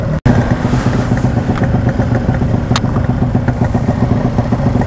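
A stock-engine Yamaha RX King motorcycle idles close and loud at a red light, a steady uneven two-stroke burble with rattling clatter throughout and a brief dropout near the start.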